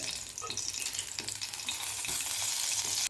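Green chillies and garlic cloves roast in oil in a pan, a dense steady frying sizzle with scraping stirs, close and continuous.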